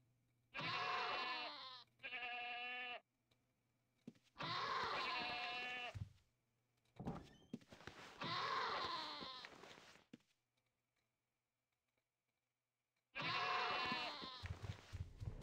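Sheep in the Ultima Online game bleat in a series of loud, close, wavering cries, several separate bleats with short silent gaps between them.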